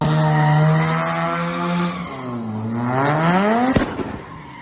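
A rotary-engined 1969 Datsun 510 sliding through a skid, its loud buzzing engine note swooping down and rising again over several seconds, with a sharp crack near the end.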